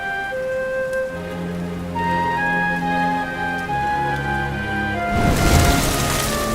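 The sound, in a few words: rain in video game Dragon Quest XI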